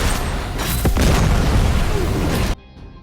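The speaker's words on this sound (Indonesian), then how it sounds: "Franz melempar tabung gas dan menembaknya hingga terjadilah ledakan." A heavy boom from a gas cylinder shot and exploding in a film, with a dense rumbling blast that sustains for a couple of seconds, then cuts abruptly to near silence.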